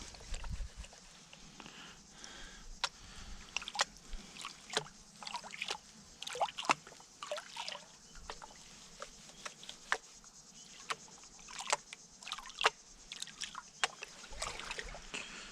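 Water sloshes and trickles in a gold pan being swirled gently for a finer pan, soft intermittent splashes and drips coming close up and fairly quiet, with no talking.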